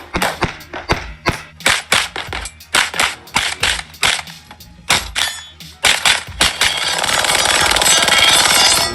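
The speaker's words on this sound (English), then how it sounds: "Glock with a switch on it" A Glock pistol fitted with a switch fires rapid bursts of loud, sharp automatic shots in quick clusters, then a sustained hissing roar of echo or wind takes over near the end.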